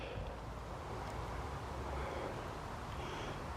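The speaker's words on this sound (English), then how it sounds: "that noise you can hear is the A44" Steady broadband road traffic roar from the A44 near Aberystwyth, heard from a valley walk, continuous and fairly distant with wind-like rumble and no distinct passing vehicles.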